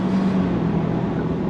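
A 2024 Ford Ranger XL STX midsize pickup with a reworked 10-speed automatic is on throttle, making a loud, steady engine drone heard from inside the cab with no talk.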